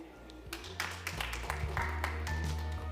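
Audience at a climate change conference session applauding to welcome a speaker, with scattered, fairly quiet clapping that builds slightly and continues steadily, heard at a distance in a large hall.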